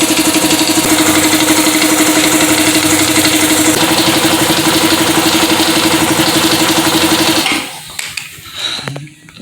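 A repaired Vespa air compressor runs loud and close with a steady, throbbing mechanical drone for several seconds, then cuts out, leaving a few faint clunks and rattles.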